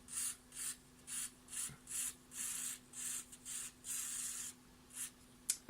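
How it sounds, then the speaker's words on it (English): Electrical contact cleaner sprayed onto the cartridge terminals of an original Nintendo Game Boy during a restoration: about ten short, close hissing bursts in an even rhythm, each lasting roughly a third of a second, with no talking. "I'm just going to spray just a little bit"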